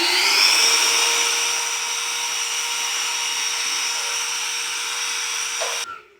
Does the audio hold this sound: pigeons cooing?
no